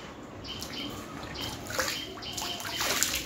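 Water running and splashing during a bath, a close, steady wash of trickling and sloshing with a few brighter splashes, no voices.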